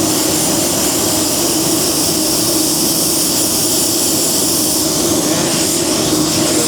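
A spray gun laying down a wet coat of pearl white automotive paint: a loud, steady, close hiss of air and atomized paint that runs unbroken throughout.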